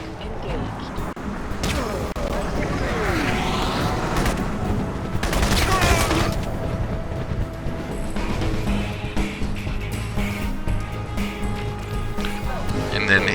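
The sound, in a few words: gunfire while shooting in the video game Crysis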